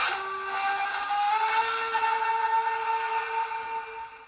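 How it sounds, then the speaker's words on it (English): A steady, sustained short whistle from an LGB 2085 model steam locomotive with a Zimo MS950 sound decoder blows for about four seconds, clear and close, with a chorded tone that holds without breaks. "That's your kind of your short whistle."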